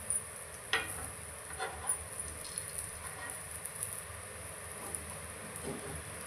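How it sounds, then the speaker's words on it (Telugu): Coconut cutlets made from fresh coconut fry quietly in a pan, a faint steady sizzle broken by a few soft clicks and scrapes as they are turned. "ఇంకో సైడ్ కూడా ఫ్రై కావాలి కాబట్టి ఇలా 2 సైడ్స్ ఫ్రై చేసుకోవాలి"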